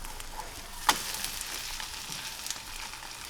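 Indian omelette of beaten eggs sizzling in a pan just after a flip, a steady soft frying hiss with one sharp clack of a spatula early on and small crackles after.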